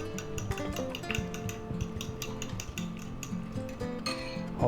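A utensil scrapes and clinks against a pan while green onions are stirred into tomato and eggs, making irregular close taps and scraping strokes over a faint background hum.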